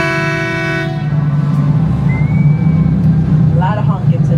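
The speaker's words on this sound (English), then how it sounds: "A lot of honking today, guys." A loud horn blares for about a second during a city boat ride past the Marina City Towers, then fades into a steady engine and water rumble with faint distant honks.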